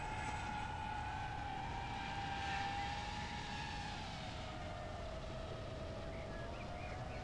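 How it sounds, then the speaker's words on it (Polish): An FPV drone flies with a steady, high motor whine that slowly shifts in pitch over a constant rushing background, sustained and fairly close throughout. "No ciekawie się lata tym dronem."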